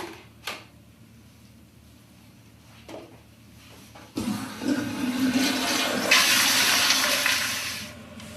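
A toilet flushes after measured urine is poured into the commode, a soft click followed by a loud, rising rush of swirling water that fills the last few seconds, with a few faint knocks beforehand.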